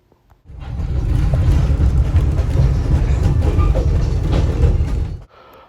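A two-foot narrow gauge train in Maine rumbling past, a heavy low roar with rattling cars that rises suddenly, holds steady and loud for several seconds and then cuts off, with no voices.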